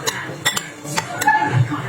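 Salted egg salad stirred in a bowl, with a few sharp clinks and scrapes of a utensil against the dish, close and fairly loud over a quiet background.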